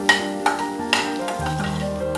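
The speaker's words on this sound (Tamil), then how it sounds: "பொன் நிறமாகற வரை நல்லா வதக்கிக்கலாம்." Onions sauté in a pan for pav bhaji, a close frying hiss with a few sharp scraping stirs early on, then a steady sizzle and clatter with no talking.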